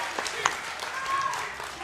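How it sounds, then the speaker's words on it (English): Applause from a live crowd at a Schmoedown competition event, a short burst of clapping heard under close commentary voices that keep talking throughout. "round of applause"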